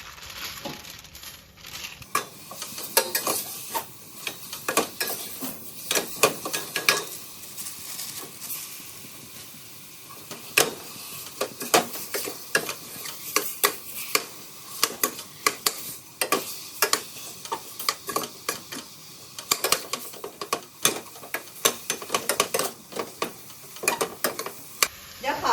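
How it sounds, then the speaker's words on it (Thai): Minced pork stir-fried with curry paste in a pot for a Thai pork curry, with constant sizzling and frequent scraping clatter of a utensil against the metal, and no talking. "เราก็จะใส่หมูสับลงไปค่ะ"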